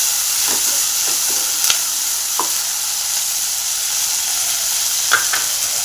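Onions and chopped tomato sizzling and frying in a pan, a steady loud hiss broken by scraping stir strokes from a spoon.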